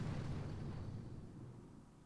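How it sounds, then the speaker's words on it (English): Artillery barrage in the Boom Beach video game: a deep, rumbling explosion roar that fades steadily over about two seconds, with no talking. "we're going to have to send in a barrage to the feet of that sniper tower"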